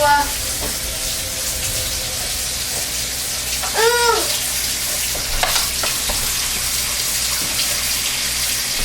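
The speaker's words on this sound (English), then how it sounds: "that is getting some water in the sink" Tap water runs steadily into a kitchen sink while cold process soap is being made, a continuous splashing rush across the whole stretch with a brief louder burst partway through and no talking.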